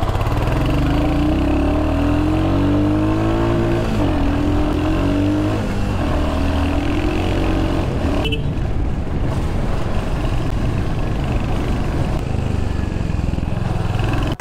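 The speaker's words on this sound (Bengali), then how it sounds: "তিনটে বাইক নিয়ে বেরিয়ে যাচ্ছে আজকে" Three Royal Enfield Hunter 350 motorcycles run close by, a loud continuous engine drone whose pitch rises and wavers as they rev and pull away, then a rougher, noisier rumble after.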